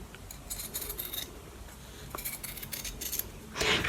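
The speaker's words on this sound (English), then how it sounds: "And then on that drawn line, you're going to want to cut." Scissors snipping through quilting fabric along a drawn line while making a half-square triangle pincushion, a series of quiet close crisp cuts and rustles with no talk.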